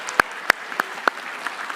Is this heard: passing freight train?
no